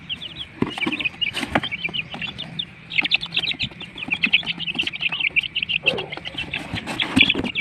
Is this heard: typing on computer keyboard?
no